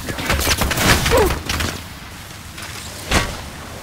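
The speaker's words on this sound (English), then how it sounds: "Getting shot at." Gunfire in the video game Apex Legends, a few muffled shots and crackling hits, loudest early on with one more sharp burst near the end, over game background noise.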